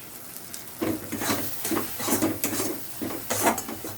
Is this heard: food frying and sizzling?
yes